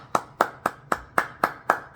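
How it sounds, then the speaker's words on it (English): Hands clap eight times in a steady, even rhythm, each clap crisp and close with short gaps of near silence between. "So clap it up."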